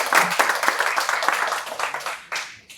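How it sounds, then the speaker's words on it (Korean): An audience at a Wesleyan holiness revival workshop gives a warm round of applause welcoming a guest doctoral presenter, with steady dense clapping that fades out near the end. "우리 뜨거운 박수로 환영해 주시면 감사하겠습니다."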